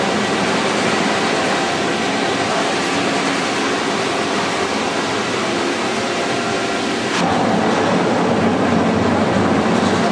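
A shuttle car on the Black Hole ride at Alton Towers rolls along its track indoors, a loud, steady rushing rumble that swells slightly near the end.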